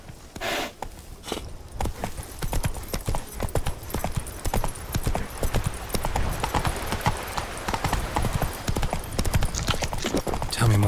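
Roach, the horse in The Witcher 3, clops along in steady rhythmic hoofbeats, close and continuous, mixed with game sounds and background noise.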